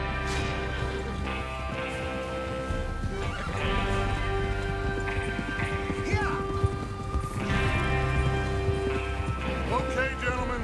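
Horses in the Red Dead Redemption 2 game snort, whinny and shift their hooves while a gang prepares to ride out, the animal sounds loud and close over a rumbling background, with talk mixed in.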